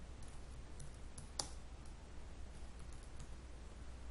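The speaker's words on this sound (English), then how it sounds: "Billy, would you come over here and type your name?" Several faint, scattered key clicks on a computer keyboard as a name is typed, with one sharper tap near the middle, all over a low steady room hum.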